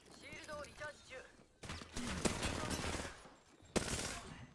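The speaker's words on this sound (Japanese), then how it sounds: "敵に撃たれてる。" Enemy gunfire in the video game Horizon, bursts of rapid shots and sharp cracks, loud in the second half, mixed with voices talking at the start and throughout.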